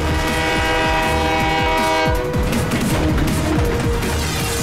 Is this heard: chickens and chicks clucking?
no